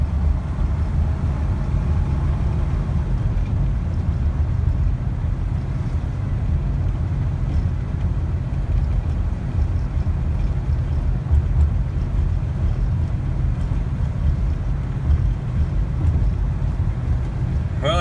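A 1966 Oldsmobile Delta 88 driving uphill, heard from inside the car as a steady low engine and road rumble with wind noise, continuous and fairly loud throughout.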